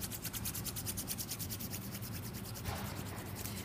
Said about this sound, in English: just be careful when you're filing that you're really being mindful of the skin